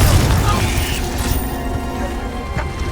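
Booming magical fire blast from the Confringo spell in the Hogwarts Legacy video game, a loud low burst at the start that rolls off into a rumbling tail amid game effects.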